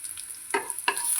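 Green chillies with ginger and curry leaves frying in hot oil in a pan, a soft steady sizzle with two stirring scrapes of a spoon, no talking.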